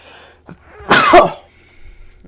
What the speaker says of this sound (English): I was waiting on that sneeze for like a while, so I'm happy that finally came out